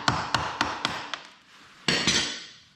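Hammer blows on a seized, heat-ground sprocket bolt of a 2009 Kawasaki ZX6R, five sharp metallic strikes in a steady rhythm, a pause, then two or three more, close and loud with no talking.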